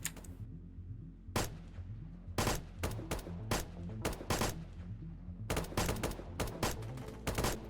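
Rapid bursts of gunfire in the Roblox game Blackhawk Rescue during a hostage rescue mission, sharp cracks in clustered volleys with short gaps over a low steady game rumble.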